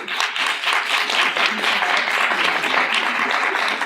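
An audience applauds the introduction of an Assemblywoman at a Long Island community event, a continuous fairly loud clapping texture with possible voices faintly mixed in.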